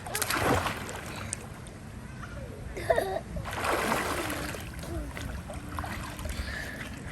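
Splashing and churning water in a hotel swimming pool in Pattaya, with bursts of sloshing as someone dives and moves about, under a steady wash of pool noise and faint voices.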